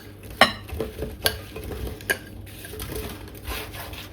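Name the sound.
spooning apple crumble fruit mixture into baking dish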